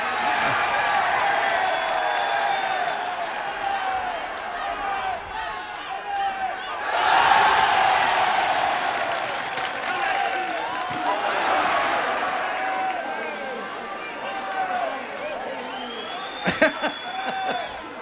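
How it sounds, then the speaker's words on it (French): Large outdoor crowd at a 1971 Intervilles television game final between Dax and Carcassonne, cheering and roaring steadily for the full stretch, with a louder swell midway and scattered shouts and whistles. "entendez, pour un malheureux pneu que d'acclamation"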